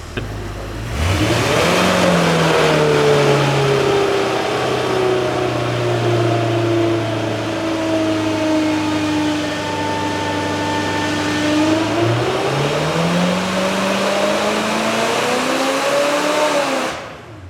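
A junkyard Ford 289 V8 that sat unused for over 45 years revs hard on a dyno, its loud, close engine note climbing, dipping and climbing again through one sustained pull.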